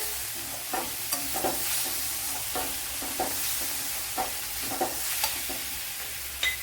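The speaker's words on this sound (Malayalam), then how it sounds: "വൺ ടീസ്പൂൺ മല്ലിപ്പൊടിയും കൂടെ ഇട്ട് കൊടുക്കുക നല്ലപോലെ ഒന്ന് ഇളക്കി കൊടുക്കാം" Fish masala with coriander powder being stirred in a pan for fish pollichathu, a constant hissing sizzle overlaid with rhythmic spoon scrapes and taps against the pan, close and clear with no talking.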